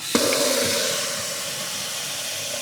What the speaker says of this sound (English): Now I'm going to add another 2 liters of water in here